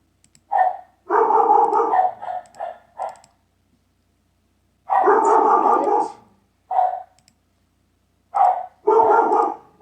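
Dog barking indoors in several short bursts, loud and close, with brief pauses and quiet gaps between the volleys; no voices.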